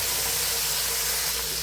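Tomatoes sizzle in a hot pan with sautéed onions while frying a masala for chicken biryani, giving a steady, even hiss of frying that stays close and constant throughout, with no talk.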